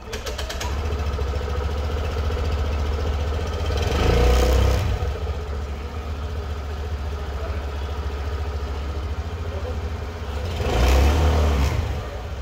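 A 2023 Suzuki Burgman Street 125 EX scooter engine idles with a steady buzzing putter, swelling twice into short revs a few seconds apart, close and loud.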